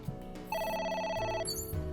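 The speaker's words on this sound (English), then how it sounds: "Oop. A phone. Should I pick it up?" A telephone rings in the video game AI: The Somnium Files, a bright electronic trilling bell burst over game background music, heard up close.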